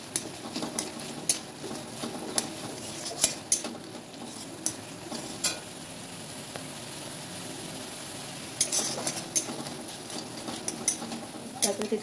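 A spoon scrapes and taps against a pan while tomato curry with sugar is stirred, giving irregular metallic clinks over a soft, steady sizzle, with the stirring coming in bursts and no talking.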